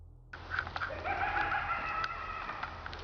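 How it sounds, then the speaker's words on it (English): A drawn-out, warbling bird call rises over faint background hiss in a forest, sounding somewhat distant and lasting a few seconds. "that sounded like a bird, right?"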